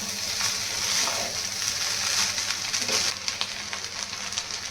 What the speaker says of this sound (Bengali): দিয়ে দিব ভেজে রাখা সবজি। এখন এটা মিক্স করে নেব।